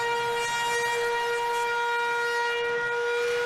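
Half-time siren at a rugby league stadium during an Ashes test between Australia and Great Britain, a loud sustained steady wail with strong harmonics sounding throughout over faint crowd noise.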